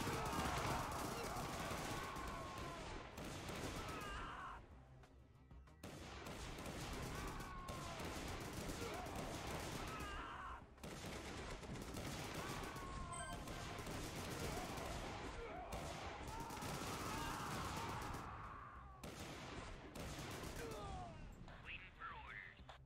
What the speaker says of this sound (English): Heavy artillery coming at you.